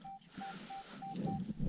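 A metal detector tuned to 4 kHz sounds a series of five short, evenly spaced beeps during a field search, faint over soft outdoor background noise.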